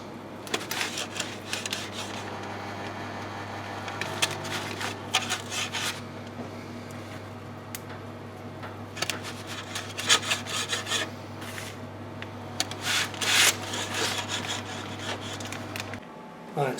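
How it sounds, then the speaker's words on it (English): Chocolate chip cookie dough being sliced by hand, heard as soft, irregular rasping and scraping strokes over a steady low hum, moderately close and with no talking. "what I'm going to do now is start slicing for neater slices"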